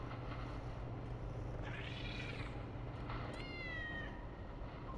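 Cat plushie in the horror game Voices of the Void lets out two drawn-out meows, the second with a rising, wavering tone, over a steady low hum of game ambience.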